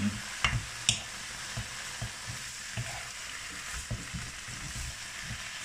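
Minced beef frying in a pan for a cottage pie, a soft steady sizzle with a few sharp spoon scrapes and taps near the start, fairly quiet and close.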